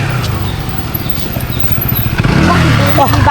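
A motorcycle pulls up close by, its engine puttering with pulsing low revs and a clattering rise near the end, while people talk over it.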